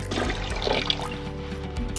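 Cold tap water runs and splashes over teeth whitening trays during a rinse, a steady close trickling wash with no talking.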